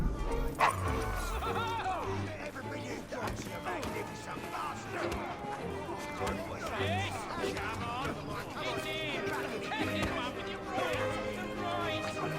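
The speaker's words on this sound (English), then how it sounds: "Is your dog quite all right?" A dog in the Assassin's Creed Syndicate video game barks and whimpers repeatedly in short yips, mixed under music and character dialogue throughout.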